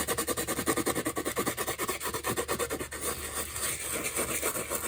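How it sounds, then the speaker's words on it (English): Rough, rhythmic rubbing scrapes across dried salt crystals on a watercolour painting, a steady fairly close back-and-forth rasp repeating throughout. "I'm just going to rub at that."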